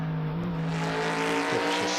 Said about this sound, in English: Further up, Caldwell, he's got right onto the back of that Camaro.